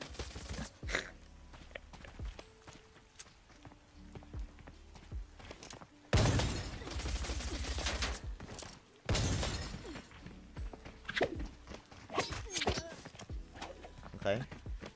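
Gunfire in the game Arena Breakout, with sharp loud bursts of shots around the middle, other scattered reports and clatter, and players talking throughout.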